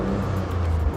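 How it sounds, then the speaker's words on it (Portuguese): A 2023 Toyota GR Corolla Circuit Edition hatch with a 1.6-litre turbo engine rated at 304 hp gives a steady, close, deep engine rumble throughout, with no rise or fall in pitch. "vamos escutar um pouquinho o ronco do carro"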